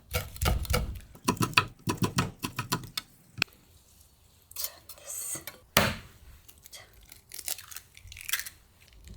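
Rapid knife chops mince wild chives on a cutting board in quick bursts, pausing briefly between runs of close, crisp taps.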